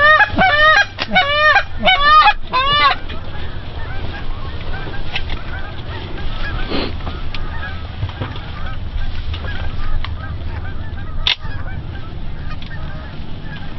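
Geese honk loudly in rapid, overlapping repeated calls for the first few seconds of an Ontario goose hunt, then the calls stop and give way to quieter outdoor ambience with faint wind.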